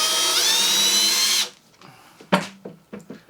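A power drill fitted with a left-handed drill bit whines steadily on a screw for over a second, then cuts off, leaving a few faint clicks and knocks.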